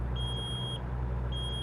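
A truck's warning beeper in American Truck Simulator sounds two steady high-pitched tones about a second apart, over a constant low engine drone, with no talking.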